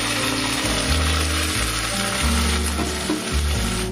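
Chhana poured into a ghee-greased kadai sizzles loudly and continuously up close, with low clunky stirring or scraping thuds repeating underneath throughout.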